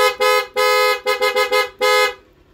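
A loud, close PIAA horn on a Honda Click motorcycle honks in a series of short and long beeps, a few quick toots in the middle, then stops.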